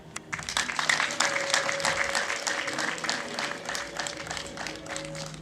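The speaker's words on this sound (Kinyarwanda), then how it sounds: "Ayo mashyi ndayashimye ariko noneho mwongereho amashyi n'impundu." Guests clap at a Rwandan traditional marriage request and dowry ceremony, a sustained, fairly loud crowd applause with a faint steady tone running through it; no distinct ululation stands out.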